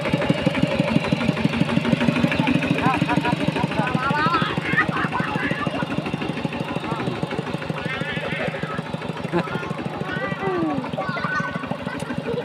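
A steady, rumbling engine chugs continuously with a rapid regular knock, while voices talk over it throughout.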